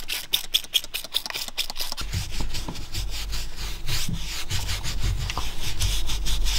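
A brush scrubs the suede interior of a Lamborghini Huracán: rapid scratchy strokes at first, then continuous close rubbing with a low rumble underneath. No one speaks.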